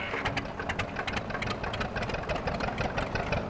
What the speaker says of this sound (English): Let's fire up the old tractor here and get it under